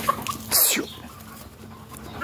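A young naked-neck chick on a rural smallholding gives a short burst of clucking and squawking, close and fairly loud, against a quiet outdoor background.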